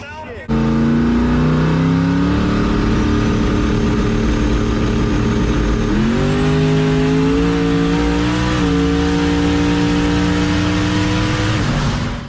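A loud engine roars hard as an S-10 drag racing pickup truck accelerates down the strip, pitch climbing through gear shifts in a long sustained pull, close and overpowering.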